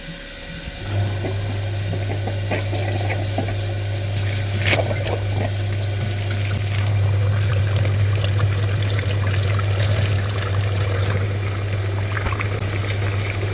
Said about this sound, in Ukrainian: Вже включимо насос, ну, наш апарат і побачимо, що буде летіти.